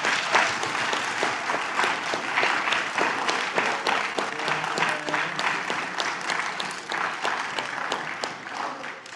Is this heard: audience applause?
yes